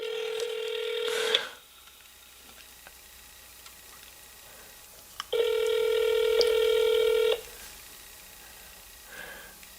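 Telephone call tones sound quietly: a short tone at the start, then a longer ring tone lasting about two seconds after a quiet gap, with faint background noise between.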